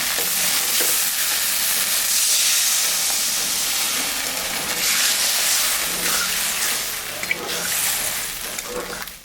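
Water poured onto fried spices and chopped tomato in a hot pan for a fish curry, erupting into a loud, close hissing sizzle and steam that rolls on for several seconds before easing off.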